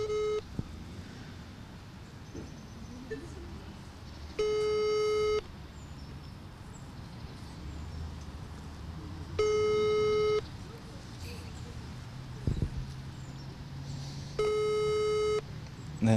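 Unanswered telephone call on speakerphone: a steady calling tone repeats in evenly spaced bursts of about a second, three times, with quiet room noise and brief background sounds between tones.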